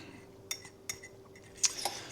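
A utensil clinks a few times against a bowl while grated Parmesan is stirred into egg batter for chaffles, faint light taps spaced over two seconds, no talk.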